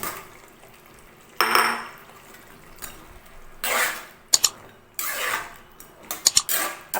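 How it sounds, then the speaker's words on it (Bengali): Fish balls dropped one by one into a pan of Fish Manchurian gravy, giving a few sharp plops and clinks at close range, spaced irregularly against a quiet kitchen background. "এবার বলগুলো একে একে দিয়ে দিচ্ছি।"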